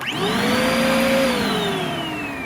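Eureka PowerSpeed upright vacuum cleaner with a clog running steadily up close, a loud droning whine with a strained, slightly choked pitch that dips near the end.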